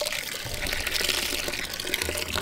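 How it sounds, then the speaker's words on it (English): Coconut milk pours steadily into a pot, making a continuous close splashing, gushing liquid sound. "That coconut milk going into the pot."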